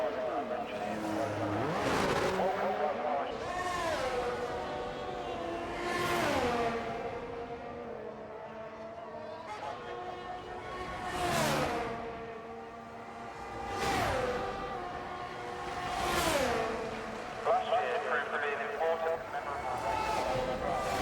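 An Alfa Romeo race car engine in a racing game, whining and revving up and down through repeated gear changes and sweeping passes over about twenty seconds while someone talks over it.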